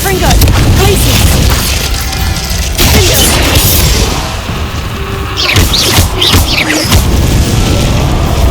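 Repeated heavy booms and crashing blasts from a Confringo fire spell in the Hogwarts Legacy video game on Xbox Series S, loud and dense, with bursts recurring over several seconds amid other combat effects.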